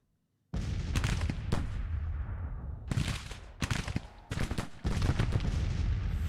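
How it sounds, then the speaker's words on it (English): Artillery bombardment in Grand Tactician: The Civil War, a series of loud booming cannon blasts with long rumbling tails, several shots in quick succession, no talking. "It looks like they're bombarding the detachment"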